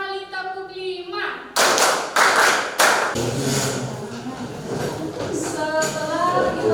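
A class of children claps together in rhythm, a few loud broadband group claps close by, followed by a teacher continuing to speak.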